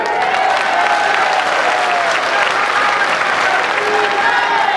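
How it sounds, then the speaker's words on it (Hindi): A large crowd at an Amit Shah BJP election rally in Chhattisgarh claps with both hands raised, a loud, dense, steady wall of applause filling the space without a break. "दोनों हाथ उठा के ताली बजाइए।"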